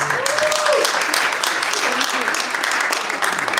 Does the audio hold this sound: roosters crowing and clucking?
no